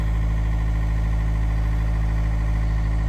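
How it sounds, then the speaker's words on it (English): An excavator's motor turned down to a low idle, running as a steady, close, droning hum with a regular pulsing throb and no changes in pitch or load. "And I also turned the motor on really low, so he can't move, and he can barely do anything"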